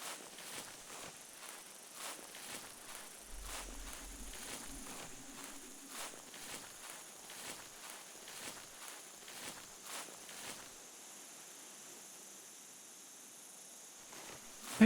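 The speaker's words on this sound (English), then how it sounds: "Maybe it's just my own footsteps I'm hearing." Soft, evenly spaced footsteps crunch through a quiet outdoor scene in a small-game hunting video game set in the Australian bush, faint and regular before fading out toward the end.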